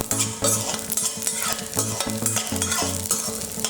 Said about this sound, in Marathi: आता खमंग वास येईपर्यंत भाजायचं